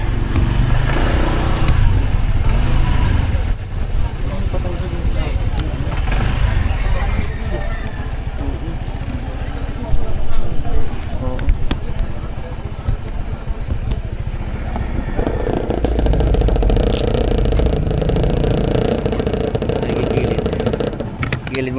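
Motorcycle and car engines hum and rev steadily along a busy road in the Philippines, with several bikes passing close by under a continuous traffic drone, while people talk over it throughout.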